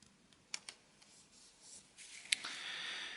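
A pen writing in an Erin Condren planner, faint scratchy strokes with a few light taps and clicks, close and quiet with no talk.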